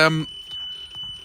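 A brief electronic car warning tone sounds at the start inside a parked car, then a thin high steady whine lingers beneath quiet movement and faint talk.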